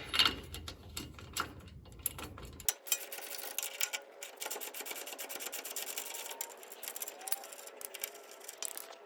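Lower shock bolts coming off an F150 during a coilover job: quiet, rapid mechanical ticking and clicking from a tool, close by and faint, in irregular bursts with no talk.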